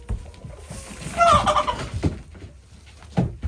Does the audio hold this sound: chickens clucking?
yes